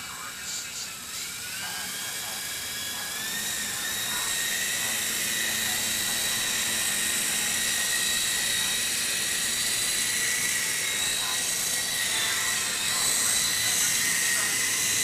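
A small remote-control Apache helicopter whines as it spins up, a high rising motor pitch settling into a steady buzzing hum, close by.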